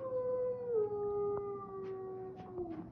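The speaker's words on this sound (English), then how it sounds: "learn how to howl like that" A beagle howls in a long, sustained tone that slowly slides downward, steady and close, with faint higher yips showing near the end.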